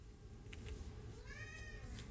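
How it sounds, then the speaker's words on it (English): Indoor house cat meowing faintly, one drawn-out cry partway through over a low steady room hum. "I hope you guys don't hear my cat."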